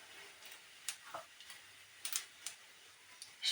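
Bengali panch phoron spices sputter in hot oil, giving faint, irregular crackles and small pops over a quiet, low background.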